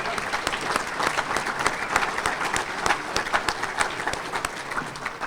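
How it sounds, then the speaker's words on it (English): Sustained audience applause for Waterbury Mayor Neil O'Leary at a State of the City address, steady dense clapping from a crowd in a hall, continuous without talk over it. "how about another round of applause for our mayor?"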